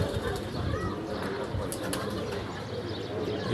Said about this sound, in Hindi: ये अभी आके बैठा है कबूतर